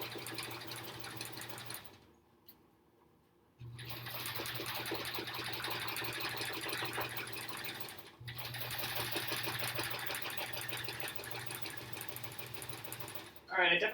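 A sewing machine stitches steadily while thread painting around a flower bud on a quilt block, running in long close bursts with a brief pause near the start and a short stop midway; a voice talks over it.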